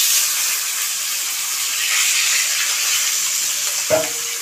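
Taro greens with a hilsa fish head sizzle steadily in a hot pan, a continuous close hiss that ends in a brief clack of a spoon or pan, with no voices.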